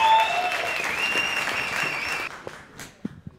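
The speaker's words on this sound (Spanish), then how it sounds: "Fuerte el aplauso para el primero improvisador de esta noche, el señor Fernando Díaz." An audience at an improvised comedy night gives dense applause with a few whistles on top for the first improviser. The clapping fades after about two seconds into scattered single claps.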